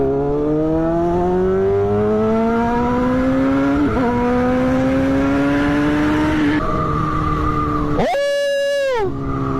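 Honda CBR600RR sport motorcycle engine revving hard on a night ride, a loud high-pitched whine climbing steadily through the gears, then a sharp rev spike near the end.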